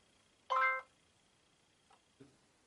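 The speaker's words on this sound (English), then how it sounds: "So we heard the chime" An Arlo video doorbell chime rings once, loud and near, as a short harmonic ding with a bright tonal decay, followed by a couple of faint small clicks in an otherwise quiet room.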